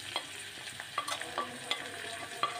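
Garlic and fresh coriander fry in a pan of soup fat, a soft crackling sizzle broken by scattered pops and utensil scrapes as the mixture is stirred, with no one speaking.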